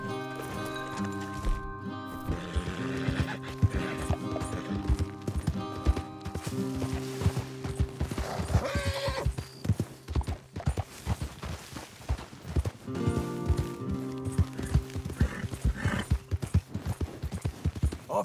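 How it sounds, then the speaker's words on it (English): Horse hooves clip-clopping in a steady rhythm in the video game Red Dead Redemption 2, with a brief whinny and game music underneath. "Your horse is here."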